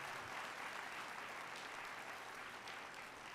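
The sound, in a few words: audience applause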